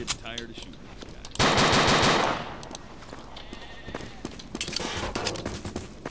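Rapid automatic gunfire from the shooter Dino D-Day during a Dinonite event, sounding as dense bursts with a loud sustained volley in the middle, plus scattered shots and game noise throughout.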